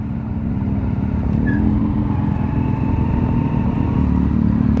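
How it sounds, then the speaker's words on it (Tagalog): A Yamaha motorcycle engine runs at a steady idle, a loud, close, low throbbing putter that holds even throughout with no talking. "Yamaha yung motor nila. Pakinggan natin yung tunog niya mga ka-take care."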